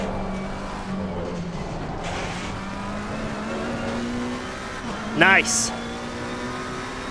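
A McLaren 720S racing around Mount Panorama in Assetto Corsa Competizione, its engine droning steadily at high revs as the throttle is eased and reapplied, with a brief squeal-like burst near the end and someone speaking over it.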